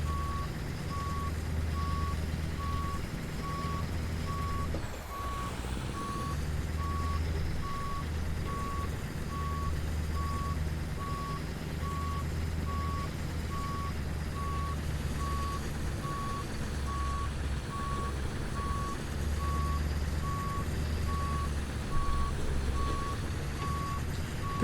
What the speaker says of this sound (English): this is why I normally take off the reversing beeper.